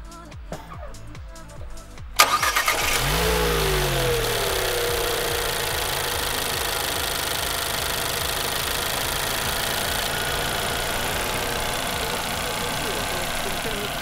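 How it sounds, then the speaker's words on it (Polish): A Renault Kadjar 1.2 TCe 130 engine cranks and catches after a couple of seconds, then settles into a steady, loud idle that runs on without a break. "Ja teraz uruchomię silnik i posłuchamy sobie, jak to wszystko pracuje."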